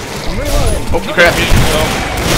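AA-12 automatic shotgun fire in the video game Killing Floor, rapid loud bursts of gunfire mixed with other combat noise, under excited overlapping voices.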